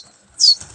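A single brief burst of wings flapping as a pigeon takes off, close and sharp against near silence.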